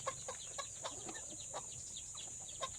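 Several chickens cluck in short, scattered bursts, faint and a little distant, over a steady high hiss of background noise.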